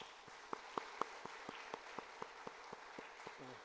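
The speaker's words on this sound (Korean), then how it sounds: "영광의 박수 올려드리겠습니다" Church congregation clapping in rhythm at a year-end Sunday worship service: a steady, evenly spaced beat of claps, moderately near, with faint crowd murmur beneath and no talk.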